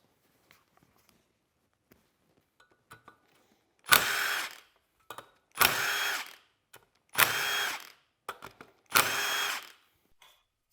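A power tool zips bolts off a turbo compressor housing cover during a KC Turbos 6.0 assembly, four separate loud whirring bursts with short gaps, close up and alone with a few small clicks between.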